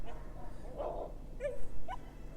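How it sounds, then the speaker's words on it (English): Two dogs fight outdoors at a distance, giving a few short yelps, whimpers and barks in irregular bursts over low background rumble. "There's dogs barking."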